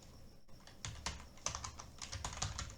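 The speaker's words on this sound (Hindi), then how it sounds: "सर्च बटन पर क्लिक करना है और आपको टाइप करना है" Keys clatter on a computer keyboard while a search box is filled in, a quick irregular run of soft, close tapping strokes with no talk over them.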